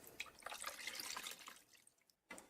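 Water, 550 grams of it, is poured into a mixing bowl as the first step of a ranch-style sourdough dough: a soft, close splashing trickle that runs steadily, fades out, and ends with one brief splash.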